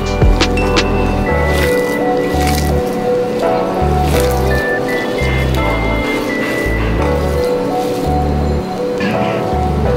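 Boiled egg bharta is mashed by hand with mustard oil, giving loud, wet, close squelching throughout. Background music plays underneath.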